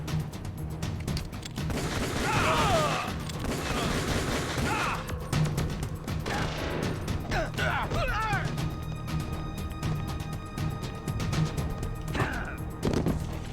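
Gunfire and crashing impacts from the video game Metal Gear Solid: The Twin Snakes, bursts and smashes over busy game music and sound effects, with voices talking throughout.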